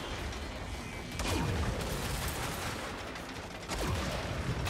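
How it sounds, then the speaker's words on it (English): Gunfire in the Saints Row reboot during a train heist makes continuous automatic shooting, dense and loud, with heavier surges of fire over a constant rumble. "Why is it like automatically shooting for me?"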